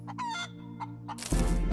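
Chicken in the Breathedge video game clucks and crows in short bursts when clicked, then a loud, dense burst of game noise abruptly takes over at the end.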